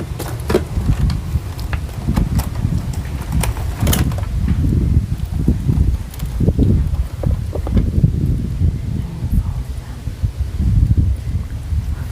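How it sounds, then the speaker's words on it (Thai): Strong wind gusts buffet an outdoor spot, heard as rumbling, uneven microphone-battering bursts and rustling that rise and fall throughout, loud and close. "เพราะว่ามันลม ลมแรงมาก"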